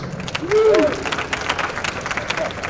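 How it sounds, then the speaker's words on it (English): A conference audience applauds panelists, a short burst of clapping from a crowd in a hall, moderately loud and fading quickly. "Give a round of applause for our panelists."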